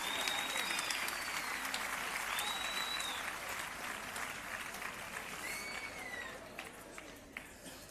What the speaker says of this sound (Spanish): Os pido un fuerte aplauso para Jesús López.